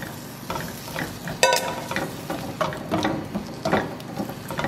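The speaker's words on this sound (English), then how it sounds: "Once this butter melts, we'll add our potatoes, and we're going to allow those to fry until they're starting to get crispy." Potatoes frying in melted butter in a skillet, a close sizzle with repeated scraping and clicking of a utensil against the pan, moderately loud and steady.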